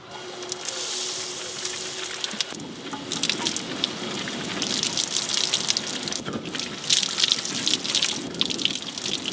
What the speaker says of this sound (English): So you've only got a minute and a half of showering.